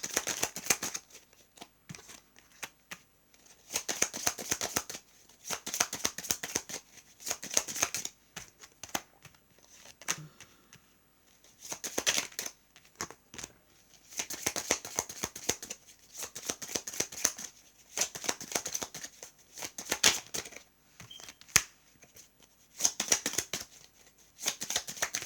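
Tarot cards shuffled by hand, close-up crisp riffling bursts repeating in quick rhythmic runs separated by short pauses, with no talking.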